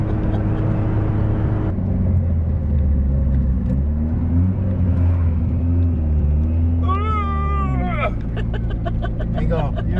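Mitsubishi Eclipse 2G fitted with a larger turbo accelerating hard, a steady low engine drone rising through the run with a whining upward sweep near the end, under people talking.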